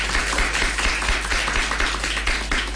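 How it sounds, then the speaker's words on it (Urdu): An audience claps for a guest on a children's radio show, producing steady, dense applause throughout, with no voices. "جی تو بھرپور تالیاں ہونی چاہیے محمد عفان کے لیے"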